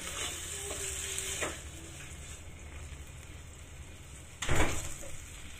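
Chicken curry ingredients fry in a pan with a soft, steady sizzle, broken by a couple of brief stirring scrapes and a louder clatter near the end.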